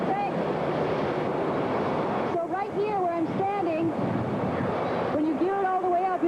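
Strong, steady roar of wind blasting through a wind simulator cranked to about 50 miles per hour, a loud broadband rush with a person talking over it.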